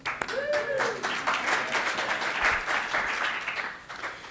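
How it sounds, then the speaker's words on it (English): Audience applause at a morning session of a lightning talk, a steady dense wash of clapping lasting several seconds with a few brief voices rising over it. "Applause."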